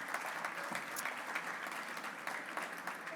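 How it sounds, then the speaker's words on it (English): Banquet audience applauding in an even, steady patter of many hands clapping, moderately distant and unbroken for the full stretch, with no speech over it. "Let's give a round of applause to our Executive Director, Basil."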